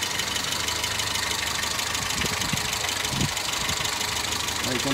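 A Renault Super 5 engine of 72 horsepower idles steadily at close range, a constant low rumble with a faint knocking rhythm and no one speaking.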